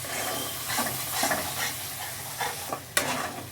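Spice paste for a fish curry frying and being stirred in a pan, a soft continuous sizzle broken by irregular scraping strokes and one sharper knock near the end.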